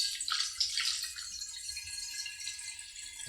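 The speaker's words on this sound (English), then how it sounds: "So now to pour in our juice. Here I got the grape." Grape juice pours steadily into a bottle, a continuous hissing, bubbling stream with faint rattling, close and fairly quiet, with no speech.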